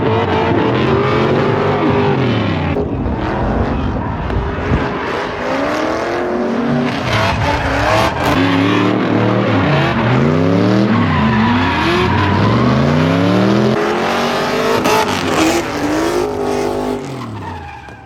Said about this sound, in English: Anthony Suika is running his car right now on jump boxes.